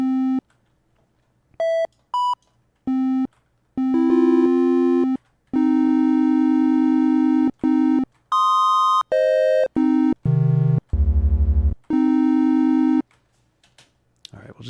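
Pure-toned synth beeps auditioned as a dissonant-interval boss-spawning effect for a space game: short sustained tones in separate bursts at shifting pitches, some dropping to deep low tones, close and clean with silent gaps between.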